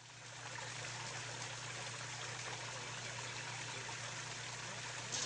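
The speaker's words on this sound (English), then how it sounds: "we can hear the waterfall through the whole yard" A backyard pond waterfall pours in a constant, even rush of falling water, with a low steady hum beneath it and no voices.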